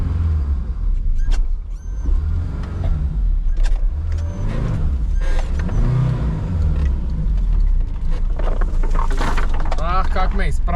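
A Lada Niva engine revs and strains while driving off-road, a steady low drone rising and falling throughout, with someone talking over it.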